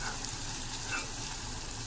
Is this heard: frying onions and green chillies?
yes